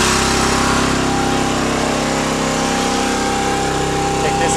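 An Anderson NWX 660 bale wrapper's small engine running steadily at high RPM, a loud, constant close drone with little change throughout.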